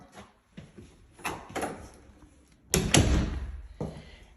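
A closet door in a house with hardwood flooring is opened, giving a series of soft knocks and clicks followed by a louder thump and rattle as it swings, with no voices.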